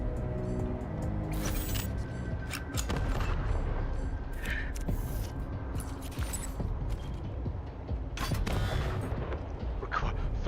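Gunshot in the Wasteland 3 tactical role-playing game: a few sharp shots and booms spread through a busy combat soundscape with ambient effects, fairly quiet overall.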